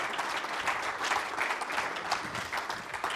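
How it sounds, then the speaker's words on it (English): Steady applause rolls through a conference hall at a company capital markets day, moderately loud and continuous with a slightly uneven swell, no speech over it. "Could be a little bit more applause, or?"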